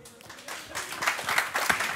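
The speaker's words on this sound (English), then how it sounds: "Big round of applause for these two guys." A live late-night show audience bursts into applause, dense clapping swelling and growing louder over two seconds, with some faint voices mixed in.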